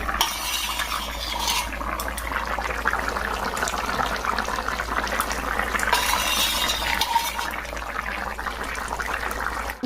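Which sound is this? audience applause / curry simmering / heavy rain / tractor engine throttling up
curry simmering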